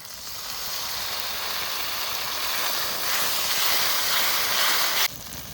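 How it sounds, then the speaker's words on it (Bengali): Spice-rinse water hits hot masala in a pan, giving a loud, steady hissing sizzle that swells slightly and then drops abruptly near the end, heard close with no talking. "এবার একটু মশলা ধোয়া জল দিয়ে দেবো।"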